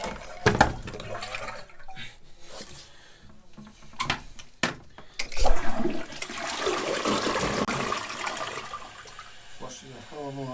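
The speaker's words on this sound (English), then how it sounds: "Flushing a hell of a lot better now, which is good." Toilet flushing right after its siphon has been cleared, a loud rushing swirl of water that builds midway and carries on steadily to the end, with short bursts of speech early on.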